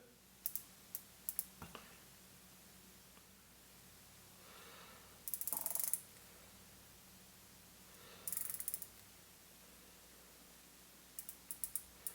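An Infinity APS reloading die being turned by hand, faint intermittent metallic clicks and short ratcheting bursts separated by quiet gaps.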